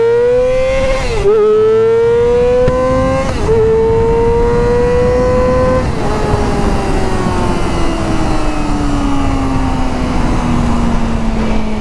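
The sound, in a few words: Yamaha R6 sport motorcycle engine revving at full throttle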